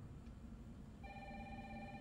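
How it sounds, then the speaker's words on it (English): A telephone in the PC video game Resident Evil 3 starts ringing halfway through with a steady electronic ring tone over a low, murky ambient hum, fairly quiet and with no talking. "And the phone's ringing."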